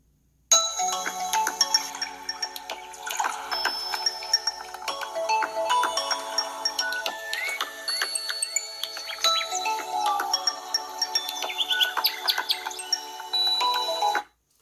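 A BLU Vivo XI+ smartphone plays a run of loud ringtone and notification tones from its single bottom-firing speaker, bright melodic chimes and jingles continuing steadily with no talking.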